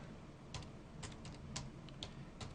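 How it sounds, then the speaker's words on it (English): Keys tapped on a computer keyboard by one hand, giving a slow, uneven run of faint, close clicks over low room hiss, with no talking. "And I'm typing one-handed"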